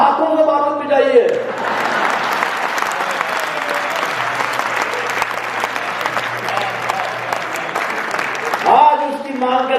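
Audience applause at a Hindi comic poetry recital, a dense, steady wash of many hands clapping for about eight seconds, with a voice speaking briefly at the start and end.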